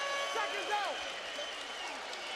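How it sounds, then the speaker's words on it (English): A Polish crowd at a boxing match cheers and applauds as a broad, distant wash of noise, partly buried beneath someone talking over it. "There's the Polish crowd."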